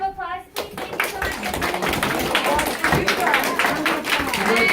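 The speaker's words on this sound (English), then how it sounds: "can we give him a round of applause, please?" An audience at a monthly Q&A breaks into loud, sustained clapping that starts abruptly after a brief pause and carries on strongly to the end, with a few voices mixed in.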